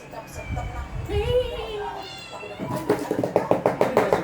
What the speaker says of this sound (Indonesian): Itu namanya kucing jambrung.